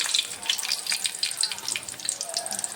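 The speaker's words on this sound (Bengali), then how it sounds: "এর মধ্যে শুকনা লঙ্কা দিয়ে আমি এটাকে ভাজবো" Hot oil hisses and spits steadily, with small crackling pops throughout as dry red chillies fry in a pan.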